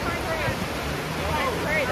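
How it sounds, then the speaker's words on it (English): A running river at Lynmouth in Devon gives a steady, broadband rush of flowing water, continuous and fairly loud throughout, with faint traces of voices in the background. "That is running stream here."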